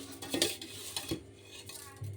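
Clattering of a metal pressure cooker pot with a few scrapes and knocks as washed rice is tipped in, followed by a quieter clink.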